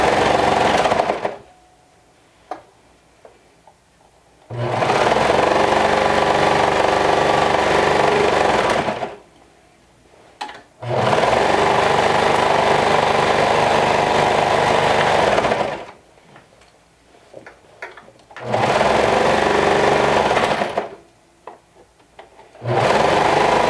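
A domestic sewing machine stitches through fabric layers with a quarter-inch seam allowance, running in four loud, steady bursts of rapid whirring separated by short quiet pauses.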